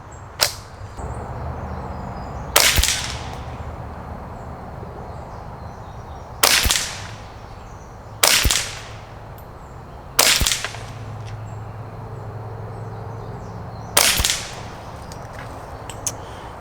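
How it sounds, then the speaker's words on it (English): Five sharp .22LR rifle shots using Fiocchi lead round nose ammunition, fired at an uneven pace of roughly two to four seconds apart, each a crisp loud crack with a short tail, outdoors. "We're going to put 5 rounds downrange, 50 yards."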